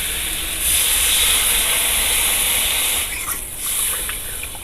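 Water is poured into a hot pan of fried potatoes for a curry with dried fish, and the pan gives off a loud, steady hiss and sizzle. The hiss eases briefly near the end, then picks back up.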